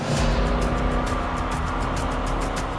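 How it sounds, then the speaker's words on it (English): A race car's eight-cylinder, 750-horsepower engine roars steadily, loud and close, as a dense continuous rumble with no voices over it. "You light that, that engine up, you hear that sound of eight cylinders and 750 horsepower fire up."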